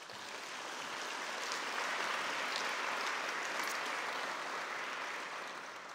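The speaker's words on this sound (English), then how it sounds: "How about a round of applause for all of the parents here tonight?" Sustained, dense applause from a large audience in a hall at a school speech night, swelling quickly and holding steady for several seconds before tapering slightly, with no voices over it.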